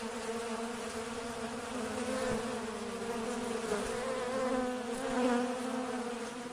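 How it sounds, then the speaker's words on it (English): Carniolan honey bees buzz steadily at urban hives, a dense, continuous drone of many insects close to the microphone, fairly loud, with no talking. "The Carniola lavender bee is also the most suited to urban beekeeping"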